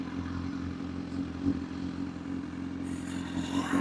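A liter-class motorcycle rumbles at crawling speed on a night ride, its engine idling low and steady with an aggressive throb, and the rider's own road noise sits close around it.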